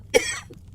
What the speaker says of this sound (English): Soon he was coughing again.